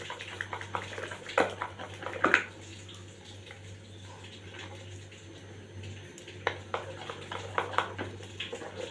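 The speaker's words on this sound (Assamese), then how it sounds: "এইখিনি মিশ্ৰণ মই ভালদৰে মিলাই ল'ম।" A spoon stirs chocolate idli batter mixed with cocoa powder, making soft wet scrapes and clinks in short bursts near the start and end, with a low steady hum beneath and a quieter stretch in the middle.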